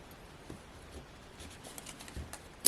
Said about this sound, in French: je lui enlève ses étiquettes